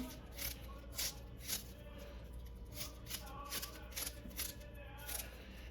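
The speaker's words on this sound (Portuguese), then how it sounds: "E aí, tentar continuar cortando fino, né?" Onion being finely sliced with a knife in a home kitchen, making a rapid series of crisp chopping taps in uneven bursts, close and fairly quiet.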